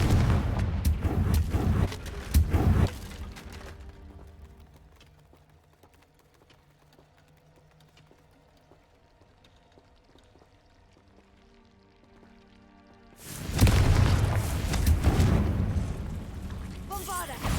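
Blasting spell explosions from Bombarda in Hogwarts Legacy, heavy crashing bursts with debris at the start, a quiet lull with faint ambience, then another loud eruption of blasts near the end.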